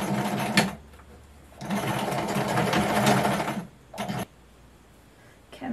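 A sewing machine stitching the waistband onto a skirt made from a sweatshirt, running in a short burst, then a longer steady whirring run of about two seconds, then another brief burst, with quiet pauses between.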